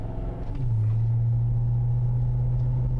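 A Ford Crown Victoria engine hums steadily at idle or low revs, then shifts near the half-second mark into a droning, even rumble that holds to the end, with no voices.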